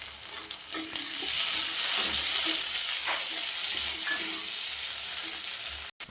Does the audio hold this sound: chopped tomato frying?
yes